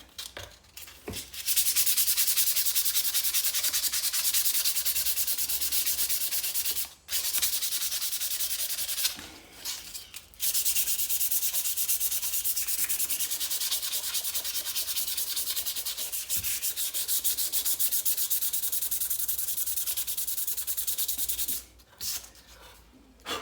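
Shears sanded by hand with 320 grit sandpaper, a close, steady scratchy rubbing that runs almost continuously, broken by a few short pauses.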